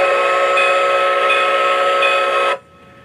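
A Lionel LionChief Plus Mikado toy steam locomotive sounds its whistle in one loud, sustained, steady blast lasting a couple of seconds before cutting off abruptly, leaving a faint hiss.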